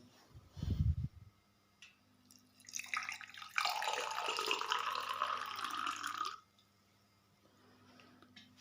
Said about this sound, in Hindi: इसमें मैं थोड़ी सी वाटर डालता हूँ